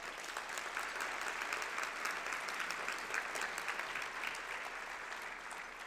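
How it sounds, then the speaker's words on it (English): An audience at a college foundation scholarship luncheon applauds steadily, a dense wash of clapping from many hands that holds at an even level throughout. "Let's give them a round of applause."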